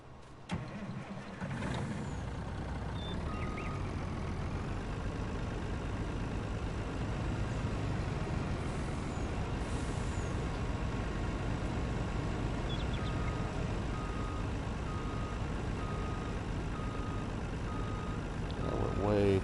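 A truck engine in Farming Simulator 19 idles and rumbles steadily for the whole stretch, with faint, evenly spaced reversing beeps appearing partway through.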